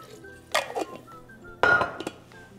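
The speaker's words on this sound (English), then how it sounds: "So we'll just rinse these a couple times." Seeds rinsed in water in a bowl give two brief bursts of clinking and sloshing against the dish, close and fairly loud, with quiet pauses between.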